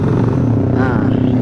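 Honda Scoopy scooter engine revving and pulling away, a loud steady motor drone with a rising whine partway through, while a voice talks over it.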